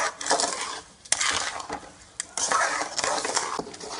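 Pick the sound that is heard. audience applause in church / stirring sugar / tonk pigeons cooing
stirring sugar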